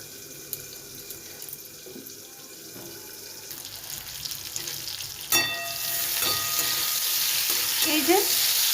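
Pointed gourd (potol) fries in a pan: a quiet sizzle with light stirring knocks swells into a louder, dense hiss after a sharp clatter midway, continuing to the end without voices.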